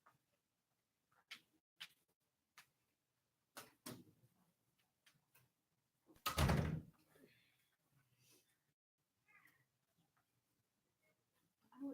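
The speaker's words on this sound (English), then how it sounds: "I'm gonna go shut the door because it's kind of loud." A classroom door is shut with one solid thud midway, amid scattered small clicks and taps, with a voice speaking faintly.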